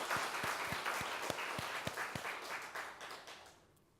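Audience applause at a Buddhist dharma gathering: a dense, moderately distant patter of many hands with a few sharper individual claps, tapering off toward the end.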